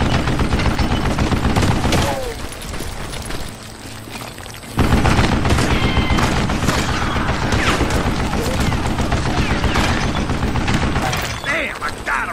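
Western-era gunfire in Call of Juarez: Gunslinger, a dense, loud barrage of shots with breaking and shattering debris. It dips briefly at one point, then returns at full intensity, with voices mixed in.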